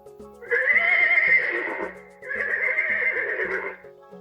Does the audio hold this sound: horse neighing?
yes